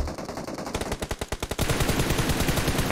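Automatic gunfire in PUBG, a quick run of evenly spaced loud shots followed by a denser, sustained burst of fire close by, with no talking.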